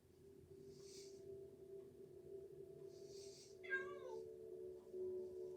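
Cats in a video game give one short, faint meow partway through, over a steady low electronic hum and quiet soft puffs of game sound.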